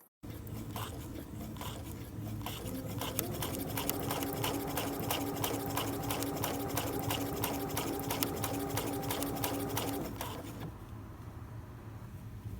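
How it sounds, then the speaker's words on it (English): A sewing machine starts up under foot-pedal control and runs steadily at a fast, even stitching rhythm for about ten seconds, then stops, leaving a quiet room hum. "To get started sewing, just use your foot to press on the machine's pedal, and your machine will take it away from there."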